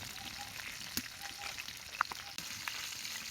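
Fish frying in oil in a home kitchen, a faint, low sizzle with a few scattered pops and a sharper crackle partway through, recorded quietly without speech.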